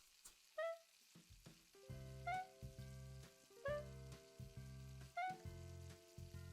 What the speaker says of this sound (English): So it's just cooking the soup very quickly.